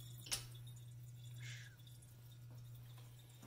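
Water drains out of a fish tank being emptied for cleaning, heard as a single clear drip and faint trickling over a steady low electrical hum, with no talk.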